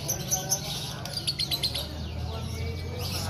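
Faint, rapid canary chirps come in a short burst of quick tweets over a low background hum at a bird market.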